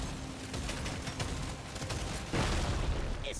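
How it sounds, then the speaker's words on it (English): Explosion in the video game Deep Rock Galactic Survivor, a dense, sustained burst of booming, crackling blasts that swells abruptly louder partway through and stays heavy to the end, with no voices. "An explosion killed me?"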